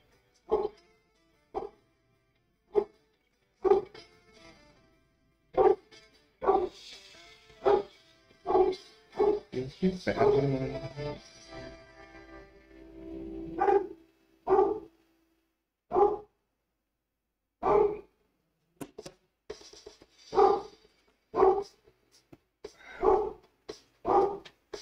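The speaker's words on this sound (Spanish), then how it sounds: "Ya, perro, deja de ladrar, hombre." A dog barks repeatedly in evenly spaced single barks, a couple of dozen in all, with a stretch of whimpering or yipping in between; close and clear against a quiet background.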